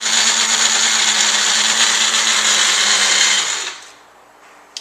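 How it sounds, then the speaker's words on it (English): A small Magic Bullet personal blender whirs loudly and steadily for about three and a half seconds, then cuts off and winds down, followed by a faint click. "This is my magic bullet blender."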